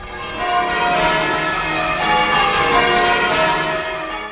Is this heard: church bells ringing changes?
yes